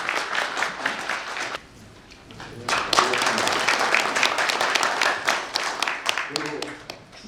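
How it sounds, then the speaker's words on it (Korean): Applause at a book launch event, clapping from an audience in a hall that briefly dies down, then swells again into a fuller, sustained round with people talking over it. "박수 부탁드립니다."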